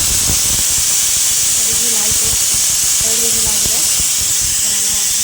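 A pressure cooker venting after the gas is turned off, its whistle releasing steam in a loud, continuous hiss that fills the whole stretch while a voice speaks faintly underneath.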